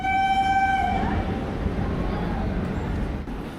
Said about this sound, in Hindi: अपनी ट्रेन इस प्लेटफॉर्म को छोड़ती हुई आगे बढ़ चली